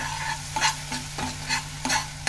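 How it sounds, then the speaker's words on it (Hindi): Spoon stirring black-eyed peas (lobia) with spices and salt in a pan, giving scraping strokes roughly every half second over a steady low sizzle, with no voices. "अच्छे से मिक्स कर लेंगे इन सभी को"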